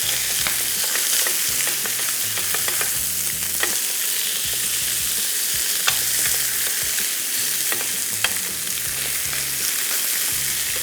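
Chicken pieces searing in a grill pan without salt or seasoning, a steady, close sizzle punctuated by irregular small pops and crackles, with no one talking.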